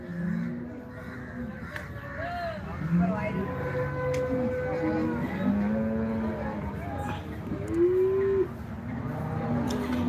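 HF cows moo repeatedly at a cattle market in Loni, long drawn-out calls near and far, with crows cawing and people talking throughout.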